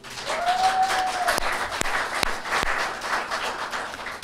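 Applause from an audience at a military-style quarterly awards ceremony, a steady broadband patter of many hands with a few louder cheers and whoops standing out.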